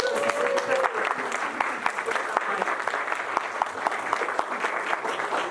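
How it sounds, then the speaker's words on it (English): Audience applause at a choral premiere of an SSAA work, a steady spread of many clapping hands in a hall, moderately loud and sustained. "So big round of applause real quick to Leanne"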